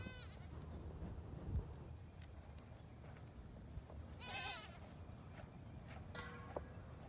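Goats bleat a few times at a distance, wavering calls rising over a steady outdoor background hiss, with a soft thump early on.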